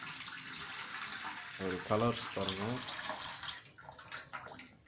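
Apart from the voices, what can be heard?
water being filled from a tap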